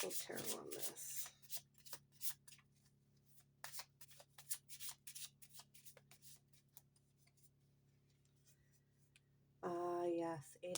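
Tarot cards are shuffled by hand in quick rapid riffles and soft clicks, close and crisp, followed by a burst of a voice talking near the end.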